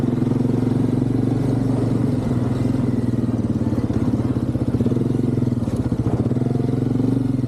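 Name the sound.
ATV quad engine riding off-road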